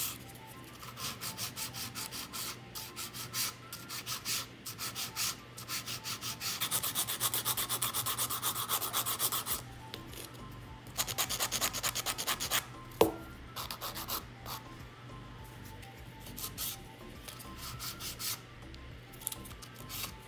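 Close-up rhythmic scraping of a nail file over dry nails, quick strokes in bursts with short pauses between, no talking.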